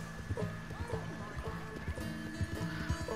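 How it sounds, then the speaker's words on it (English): Horses in the Red Dead Redemption 2 game clip-clop and whinny nearby, hooves beating in an uneven rhythm under faint background sounds, while a voice briefly speaks. "Hi, horse."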